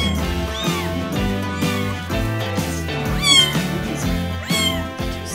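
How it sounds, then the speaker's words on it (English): A kitten meows repeatedly in a home hallway, high-pitched cries rising and falling in short bursts, close and fairly loud, alone without talk. "That's why I have a baby cat in the hallway"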